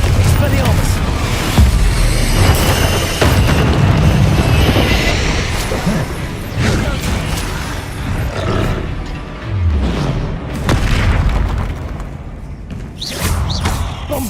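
Blasts from the Bombarda and Confringo explosion spells in the video game Hogwarts Legacy, with loud booms and thuds landing amid heavy combat noise, mixed with shouted incantations throughout.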